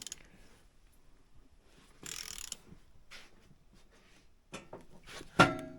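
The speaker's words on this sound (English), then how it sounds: "So we got the torque wrench set to the torque the book says, and we're torquing it." A torque wrench tightens bolts on a vintage barn-find RXL engine, giving sparse mechanical clicks and ratcheting with a sharp click near the end, close and otherwise quiet.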